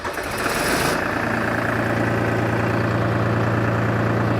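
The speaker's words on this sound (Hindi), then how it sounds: "आइए ड्राइवर जी थोड़ा ट्रैक्टर चालू कीजिए।" A tractor engine starts with a brief rough crank, then settles into a steady, close, loud idle with a constant low throb and mechanical knock.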